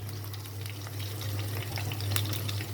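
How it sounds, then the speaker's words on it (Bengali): Eggplant frying in a pan, a soft continuous sizzle over a low steady hum, with no talking. "সেই বেগুনটা আর কি একটু ভাজিয়ে নিই।"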